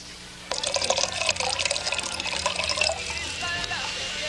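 Water pours into a glass in a steady splashing trickle for about two and a half seconds, then tapers off, close and fairly loud over a quiet room.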